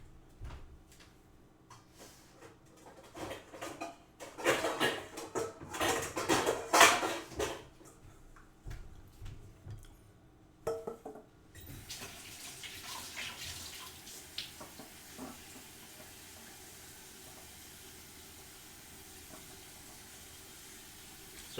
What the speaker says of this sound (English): So right now I'm putting the whetstone in water because the water is basically what ends up removing the material